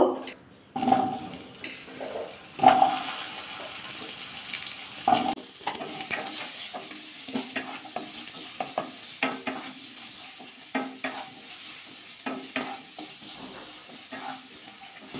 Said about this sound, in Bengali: প্রথমে আলুগুলো ভাজা করে নেব।